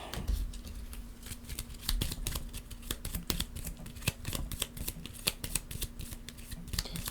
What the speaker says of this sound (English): And then we're going to move this over and shuffle their deck up.